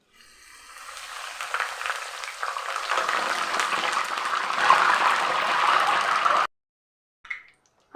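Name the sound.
curry leaves frying in hot oil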